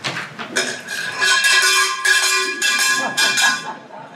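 A metallic gong sounds as a time warning at a candidates night, loud ringing strikes with shimmering overtones that sustain and overlap for several seconds.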